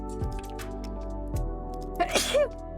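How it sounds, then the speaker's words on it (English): A single person's sneeze bursts out near the end, close and fairly loud, after a few quiet rustles and with faint speech around it. "Oh, I think I'm gonna have to sneeze here soon."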